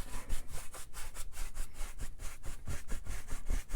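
A brand-new paintbrush rubs and scrubs across a canvas in quick, rhythmic crisscross strokes, blending paint with a close, soft scratchy swish repeating several times a second.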